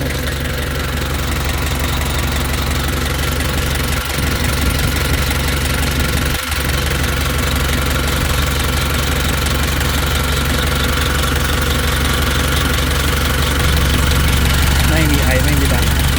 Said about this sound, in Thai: เครื่องดีครับ